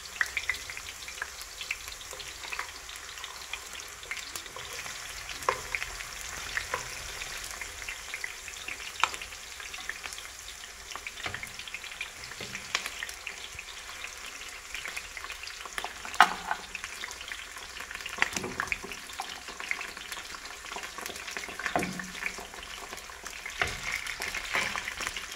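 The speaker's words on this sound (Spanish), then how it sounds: "Ahora sí, aprovechamos para echar las piezas de pollo." Chicken pieces fry in a pan for a tomato chicken dish with fresh vegetables, giving a steady close sizzle with scattered pops and crackles that runs throughout without pause.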